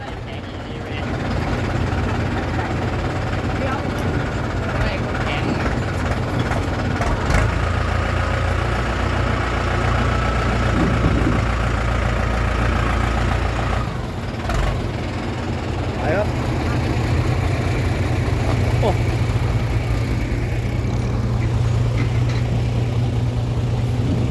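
A tractor engine idles steadily, a continuous low chugging rumble that stays close and even from start to finish, with some faint background noise over it.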